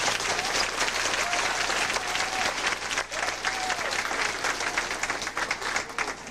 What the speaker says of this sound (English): Let's give Devin another big round of applause.